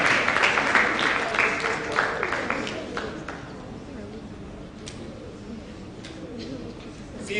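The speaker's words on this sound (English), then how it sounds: "Please clap for her now." An audience at a schools' spelling challenge claps for a contestant, a brisk burst of applause that starts loud and fades over a few seconds into room murmur with a few stray claps.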